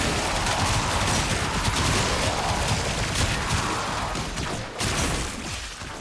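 Incarnon Prisma Angstrum firing in Warframe, a dense, continuous roar of rapid explosive shots that stays loud and close for several seconds, with a short dip near the end before the barrage resumes.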